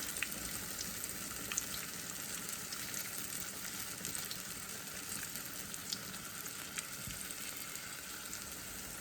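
Dense, steady sizzling of apple fritters frying in hot oil, close up and continuous, with occasional pops and crackles.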